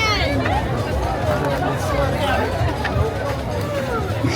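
A thick crowd gathered for the Sagicor Sigma Run fills the air with a dense, steady babble of many voices, close and loud, while one person talks nearby.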